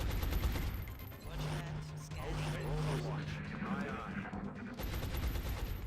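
Gunfire in XCOM Long War: bursts of rattling automatic fire at the start and end bracket a middle stretch where a voice speaks over the battle noise, the shots loud and close.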